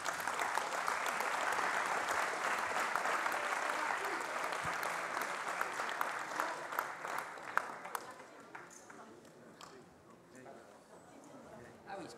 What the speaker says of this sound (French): Donc je vous demanderai de l'applaudir.